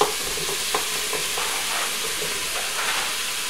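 Browned beef sizzles and fries in a pot while a utensil stirs it, with scraping taps at irregular intervals over a steady, close hiss of frying.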